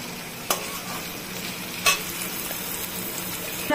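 Potato pieces frying in a pan for a potato curry, a steady close sizzle with a couple of sharp scrape-and-clatter moments as they are stirred.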